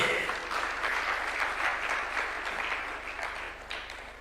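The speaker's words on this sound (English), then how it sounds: "A round of applause for Mzee." Steady applause from a crowd at State House, clapping densely and continuously for several seconds before easing off slightly at the end.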